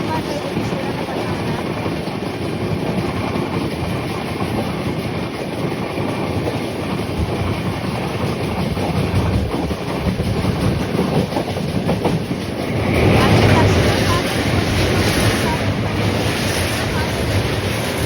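Mysuru–Kacheguda Express 12786 runs through Srirangapatna without stopping, with a steady, loud onboard rumble and rattle of rolling wheels and wind that swells louder near the end, with no voices.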